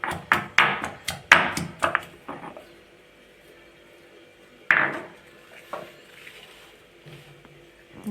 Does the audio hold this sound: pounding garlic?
yes